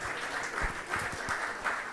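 A conference audience claps for the session's speakers and chairs, a dense, even round of applause from a hall of people, sustained throughout.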